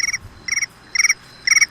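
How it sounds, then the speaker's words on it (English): Crickets chirp in four evenly spaced bursts of rapid pulses, clear and close, with no other sounds around them. "Chirping crickets."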